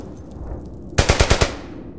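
Gunfire in the World War II video game Brothers in Arms: Hell's Highway, set around Eindhoven, Holland, 1944: a loud, close burst of about five rapid machine-gun shots after a stretch of low background rumble.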